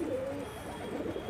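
A pigeon coos close by, a soft continuous call running throughout with no talk over it.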